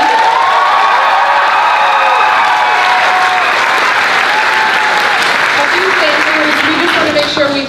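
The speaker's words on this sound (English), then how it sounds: "Give them one more round of applause." Sustained, loud audience applause fills a final showcase performance by YMA, steady dense clapping with a few cheers and whistles over the whole span, fading slightly near the end.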